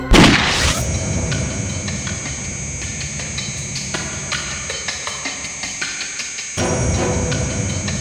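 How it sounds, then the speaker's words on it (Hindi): A detective fires a gun at a crime scene: a single loud blast at the very start, then a dense, sustained rumbling bed of sound that continues throughout. "तारिका, मैं फायर कर रहा हूं।"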